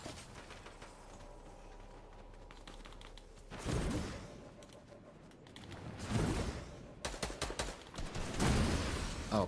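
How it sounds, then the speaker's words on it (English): Scoped weapon gunfire in Fortnite: a few loud, sharp shots break through quiet game background, spaced out and growing denser toward the end, each with a short noisy tail. "I want to test scoped weapons."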